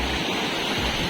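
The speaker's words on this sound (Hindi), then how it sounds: "आप आवाज़ से अंदाज़ा लगा सकते हो पानी की आवाज़ से कि पानी का बहाव जो कितना ज़्यादा" Fast, swollen stream water rushes past steadily in a village setting, a dense, loud, continuous roar with no break or voices.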